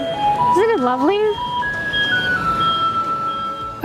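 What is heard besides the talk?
garbage truck in Taiwan playing its pickup melody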